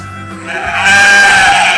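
A ram bleats loudly and up close, a single drawn-out wavering call rising out of quieter lead-in sound and holding strong to the end.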